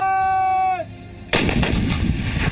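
An artillery cannon fires once with a sharp, loud blast that decays into a rumbling echo, preceded by a sustained tonal hum that cuts off just before the shot.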